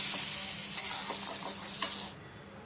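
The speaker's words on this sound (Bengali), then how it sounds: "আর 6 থেকে 7 পিস কাজু বাদাম। এগুলোকে আমি হালকা ভেজে নেব।" Cashew nuts sizzling in a hot pan with a bright hiss and a few soft stirring scrapes, close, then the sizzle abruptly cuts out near the end.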